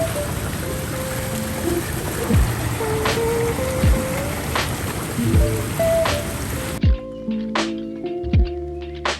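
Steady rushing river water flows continuously at a Scottish camping spot, broadband and close, with scattered drips and small splashes, then cuts to a quieter scene with a few sharp knocks.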